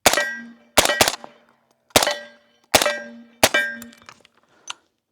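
Five sharp, ringing clangs of 300 Blackout rifle rounds striking a steel target, evenly spaced about a second apart with short metallic decays, loud and close, with faint shot reports between impacts.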